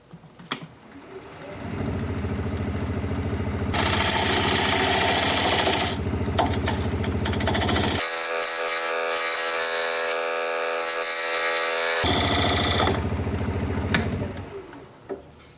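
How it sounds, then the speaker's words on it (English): Plum wood spins on a lathe as a diamond point tool cuts the tenon of a live edge bowl, producing loud, close scraping and buzzing in bursts that change pitch as the tool engages and lifts off. "use my diamond point tool to straighten up the sides of the tenon"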